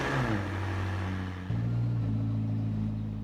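A car engine in the Roblox game Driving Empire starts up and settles into a steady droning idle, with a sudden rise in revs about halfway through before holding a smooth hum.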